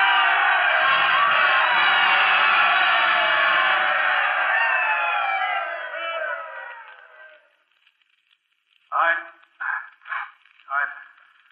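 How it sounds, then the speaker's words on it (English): A large ballpark crowd at a Yankees game rises and cheers in a loud, sustained roar that swells for several seconds, then fades out, followed by four short bursts of cheering. "And the crowd rose to its feet and they told him they loved him."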